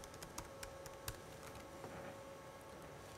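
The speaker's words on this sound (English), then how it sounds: "type in a password" A computer keyboard is tapped while a password is entered, giving a few faint, sparse key clicks in the first second over a quiet background hum.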